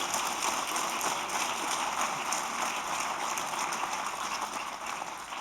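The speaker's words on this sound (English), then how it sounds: "How about a round of applause for them?" Steady applause from a conference audience at a launch event, a dense, even patter of many hands heard from a distance, sustained throughout without any talk.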